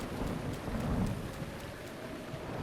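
Steady rain falling in Breath of the Wild, a continuous soft hiss of drops with no voices, even and unbroken throughout.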